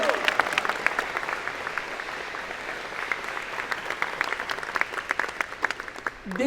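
Audience applause at a university engineering and computer science convocation, with a steady, fairly distant crowd clapping that holds for about six seconds before tapering off.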